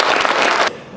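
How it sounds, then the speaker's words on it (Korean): A short, loud wash of audience clapping at a talk about a former president that cuts off abruptly after less than a second. "박수 한번 쳐주시죠."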